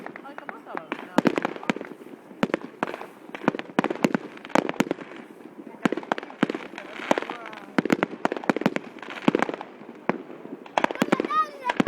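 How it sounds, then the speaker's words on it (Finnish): Dense New Year fireworks barrage in Vaasa, Finland, 2011, rapid crackling bangs in near-continuous bursts at some distance, with voices speaking underneath. "Kyllä täysin paukkuja ritisee."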